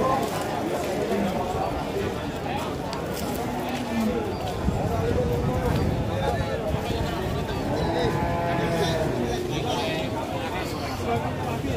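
A busy livestock market in Winong, Pati, with cattle traded, including very large cows, heard as a dense, loud crowd murmur with shuffling and hoof clatter and people talking throughout; no clear moo stands out.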